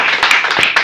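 A church congregation breaks into applause during a Spanish-language sermon: a short, dense burst of clapping hands, close and fairly loud, lasting under a second with no talking over it.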